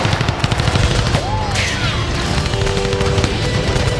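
Dense, rapid machine-gun fire from an enemy MG nest during an assault on a palace in a military game, loud and continuous with explosions, a whistling projectile and other gunfire layered through the battle.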